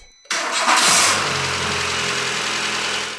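Renault D4F petrol engine cranks and fires on a test start after a fresh timing belt replacement, catching quickly and settling into a steady, even idle close by with no knocking or other noises.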